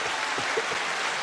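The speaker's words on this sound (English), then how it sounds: "9-second applause to an efficient first segment" Studio audience applause during a radio show interview, a steady dense wash of clapping that holds evenly throughout, with no voices over it.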